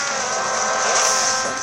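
Audi hypercar from around 2015 racing in a drag race in the mobile game Real Racing 3, a loud, steady engine roar that swells slightly midway and holds for under two seconds without speech.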